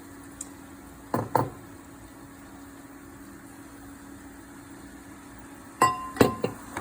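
Zucchini pieces tossed into a pan come through as two short clusters of sharp clinks and knocks, the first near the start and the second near the end, with a low hum filling the quiet between them.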